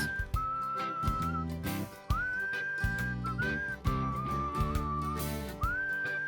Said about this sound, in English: Try to whistle along if you can.